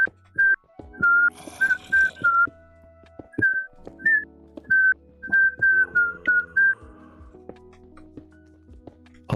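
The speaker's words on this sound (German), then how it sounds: "Da pfeift irgendwer." A person whistles a lilting tune in short, clear, repeated notes against soft background music in a Minecraft game session, the notes separated by brief pauses across the whole stretch.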